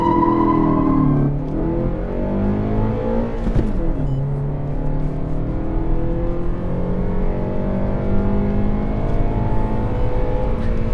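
A Lada Vesta Sportline, a heavy car on large wheels with long gearing, accelerates hard: the engine drone drops at a quick gear change, then climbs steadily in pitch and stays loud and close.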